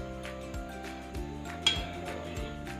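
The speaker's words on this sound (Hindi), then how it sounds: "इस पे पैन रख देती हूँ।" A frying pan set down on a stove burner at medium heat while making keema paratha: a few light metallic clinks and knocks spaced about half a second apart, close by and fairly quiet.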